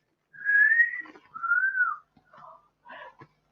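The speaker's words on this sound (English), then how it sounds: "That's the kind of whistle I just gave you." A person whistles a short tune of two long rising-and-falling notes followed by two brief softer chirps, clear and close with nothing else behind it.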